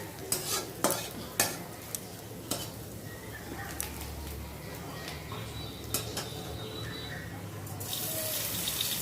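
Potato filling with chopped ginger being stirred and fried in a pan, scraping and clinking strokes near the start over a low sizzle that continues with occasional knocks.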